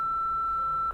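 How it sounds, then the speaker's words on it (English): A single steady electronic voicemail beep from a phone in the Nancy Drew: Midnight in Salem game, clear and close, holding for almost a second before cutting off. "please leave a message after the beep."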